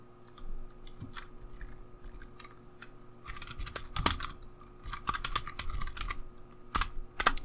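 Someone types on a computer keyboard in quick, irregular bursts of close, crisp key clicks with short pauses between them. No one speaks.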